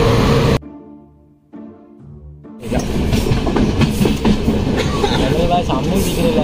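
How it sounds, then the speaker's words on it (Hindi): A train runs on rails in India. A brief sound cuts into a near-quiet gap, then the steady loud rumble and rattle of the moving train. "अब हम चलते हैं ट्रेन के ऊपर।"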